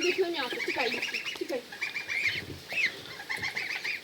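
Geese honk and cackle repeatedly close by, a busy flock calling over one another.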